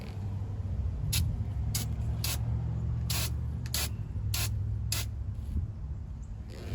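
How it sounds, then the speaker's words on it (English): A spray paint can hisses in a string of short, sharp test bursts, about a dozen quick sprays spaced irregularly over a low background rumble, close by and crisp. "Test spray."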